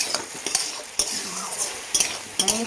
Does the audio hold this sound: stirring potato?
yes